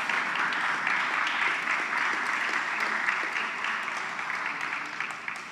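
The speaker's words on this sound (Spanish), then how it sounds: "Un aplauso, por favor." An audience claps steadily at a Pacific Alliance presidential summit ceremony, a dense, moderately distant round of applause that tapers slightly toward the end.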